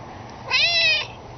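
An outdoor cat lets out a single clear, drawn-out meow at close range that rises and then falls, alone against quiet background noise.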